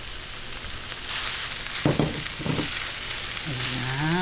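Sliced chicken added to a pan of softened onion and garlic, a hiss that swells into a louder frying sizzle, with a few stirring scrapes and a brief sputtering crackle near the end.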